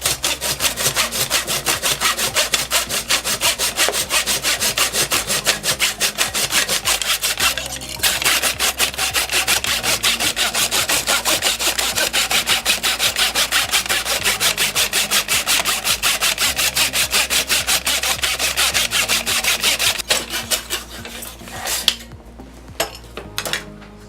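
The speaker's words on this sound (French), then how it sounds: "Il n'est plus qu'à scier la pièce de bois." A hand saw cuts through a piece of wood held in a sawing guide, steady rapid back-and-forth strokes rasping loudly and continuously, then slowing and trailing off near the end as the cut finishes.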